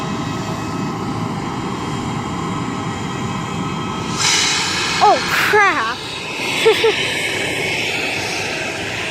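An airliner pushes back from the gate at Springfield Branson National Airport at sunset, a loud, steady roar of engine and rushing air close by, with a short startled exclamation from a nearby voice partway through.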